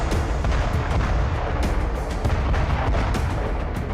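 Dense, continuous rumbling blasts and overlapping bursts from a bombing attack with cluster bombs exploding over Bryansk, Russia, loud and sustained with no gaps, heard alone without voices.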